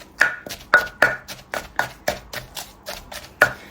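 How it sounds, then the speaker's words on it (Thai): Fresh fish chili paste pounded in a mortar with a pestle, about eight sharp, fairly loud thuds at an uneven pace, close up and heard alone. "โขลกรวม ไปค่ะ"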